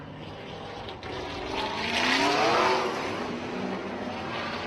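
A Trans Am TA2 race car roars past on a circuit during a live racing event, its loud engine note rising to a peak and fading slightly as it goes by, with no talking.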